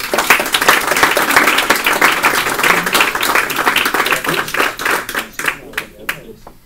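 Loud, dense audience applause welcoming a speaker at an evening conference, a sustained wash of clapping from a crowd that thins into scattered claps near the end, with some voices mixed in underneath.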